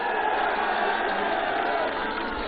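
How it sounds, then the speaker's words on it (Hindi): Dense, steady crowd noise at a political election rally in Ghazipur, Uttar Pradesh, with a large audience clapping and cheering continuously at close range and no breaks. "जोरदार ताली बजा के इनका स्वागत करिए"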